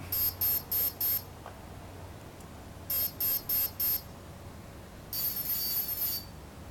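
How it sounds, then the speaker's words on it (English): Four short, bright electronic beeps in an even rhythm from an Align Trex 500 helicopter speed controller starting up, repeated, followed by a longer warbling tone, all fairly faint over a quiet background. "once you hear the four beep start"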